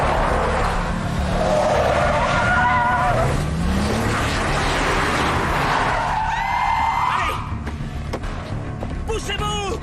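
A car accelerates hard with loud screeching tire skids and squeals, engine roaring close by, while voices speak over the action.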